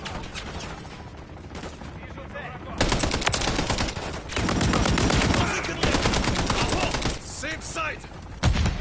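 Mercenaries trade automatic gunfire in a shooter game, loud sustained bursts of rapid shots broken by brief pauses, with a voice talking in between.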